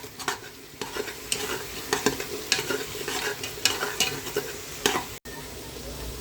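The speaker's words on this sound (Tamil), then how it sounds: "கிண்டி விட்டுக்கணும்." Spices stirred in a frying pan for goat leg curry, a spoon scraping in steady repeated strokes over a continuous sizzle, close and moderately loud, with a brief dropout near the end.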